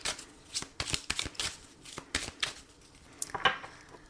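A deck of oracle cards is shuffled and cut by hand, giving repeated crisp riffling and snapping bursts with brief pauses, close and fairly quiet with no talking over it.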